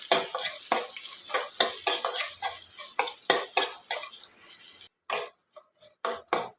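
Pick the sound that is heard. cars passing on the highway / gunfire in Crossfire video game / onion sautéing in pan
onion sautéing in pan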